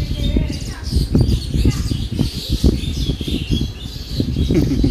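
Myna birds chatter and squawk around a temple with trees, their calls busy and continuous over a loud, rumbling outdoor background.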